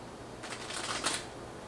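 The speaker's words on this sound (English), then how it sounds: "I got a decent shuffle on camera" A deck of cards is riffle-shuffled in one quick burst of rapid flutter lasting under a second, close and fairly soft against quiet room tone.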